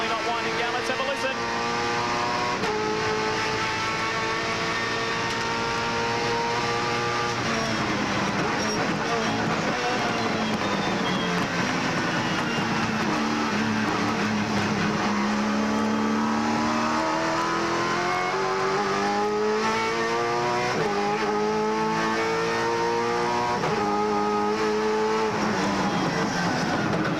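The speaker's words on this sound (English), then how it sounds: "As we go on board with Russell Ingall, Bargwanna's got through on Scaife now." On-board V8 Supercar race car engine at Hidden Valley in 1999, a loud continuous roar with rising and falling revs through gear changes, under race commentary.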